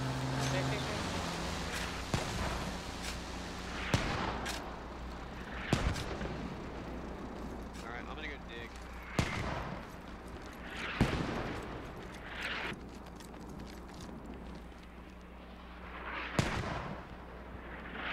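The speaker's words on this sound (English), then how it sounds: "Those mortars are max range." Mortar fire in a combat video game, a run of distant booming impacts spaced a second or two apart over a constant background rumble, with voices talking over the action.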